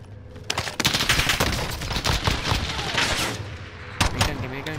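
Rapid gunfire in Call of Duty Warzone at night, dense bursts of automatic shots crackling almost without pause, loud and close, with one sharp louder report near the end.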